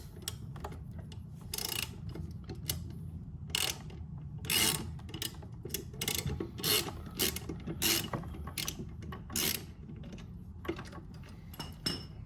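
A ratchet wrench loosens the 5/8 blade nut on a lawn mower, giving a series of quick, close clicking bursts in an irregular rhythm over a faint background rumble.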